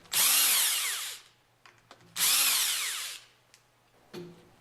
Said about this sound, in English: Use the impact wrench with a 5mm hex attached to loosen the 4 bolts from the top